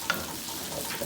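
Dried fish frying in a pan and being stirred, a soft continuous sizzle with a brief scrape near the start, close and moderately loud.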